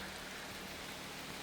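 Heavy rain pours steadily through a forest in autumn, a dense, even hiss with no breaks and no voices over it.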